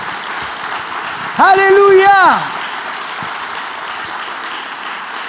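Congregation applause for Jesus during a Sunday morning church service fills the whole clip as a steady wash of clapping, with one voice shouting loudly over it partway through.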